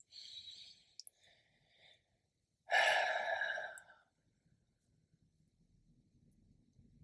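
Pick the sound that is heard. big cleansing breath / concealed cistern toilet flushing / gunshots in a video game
big cleansing breath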